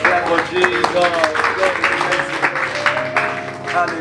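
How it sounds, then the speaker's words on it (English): A church congregation applauding and cheering during a deliverance service, clapping that rises and falls beneath someone speaking loudly over it, with tonal musical notes mixed in. "Clap for Jesus."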